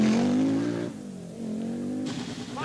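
A Peugeot 205 Turbo 16 rally car at a 1984 world championship rally roars loudly and close, its engine note climbing, then dropping and rising again over a few seconds.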